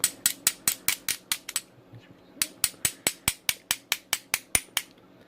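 Lock pick raking and working the pins of a dimple lock caught in a false set, giving a close, rapid series of sharp metallic clicks in two bursts with a brief pause between, with no talking.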